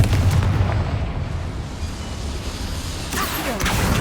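A Confringo fire spell explodes in Hogwarts Legacy, a dense rumbling blast with low booming energy, then a fresh whooshing burst near the end.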